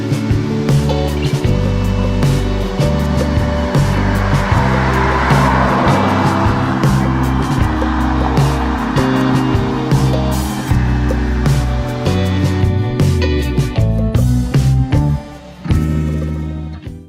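A 2015 Hyundai Genesis accelerating hard, its engine climbing loudly through the revs in repeated stepped pulls as it shifts up through the gears, close and continuous with no talk.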